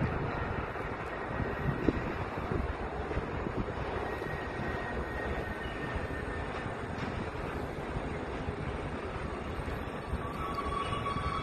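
A class 731 diesel locomotive hauls a heavy, fully loaded grain train, producing a steady, dense rumble of engine and rolling wagons with faint wheel squeals over a sustained passage.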